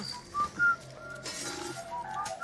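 A person whistles a few short, thin, wavering notes, quiet and close, in a sparse, halting phrase with no talking.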